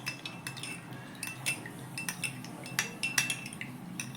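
Spoon stirring salt into room-temperature water in a bowl, a steady run of quick, light metallic clinks and scrapes close by, quiet and alone.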